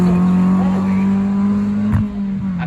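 BMW 1 Series rally car with a 3-litre straight six and straight exhaust, loud sustained engine drone at a steady pitch on a stage rally, with a brief sharp transient near the end as the note drops slightly.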